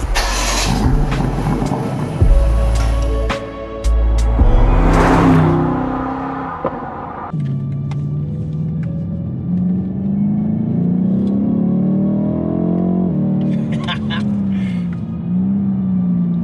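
A BMW M850i V8 engine starts and revs, then settles into a deep rumbling drone that rises and falls as the car pulls away and accelerates.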